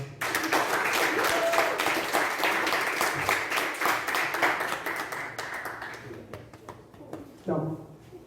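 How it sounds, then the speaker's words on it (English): An audience bursts into a big round of applause, dense clapping that slowly thins out. A speaking voice cuts in near the end. "just give a big round of applause for"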